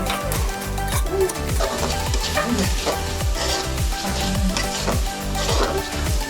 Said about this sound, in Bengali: এখন মশলাগুলো ভালো করে কিছুক্ষণ কষিয়ে নেব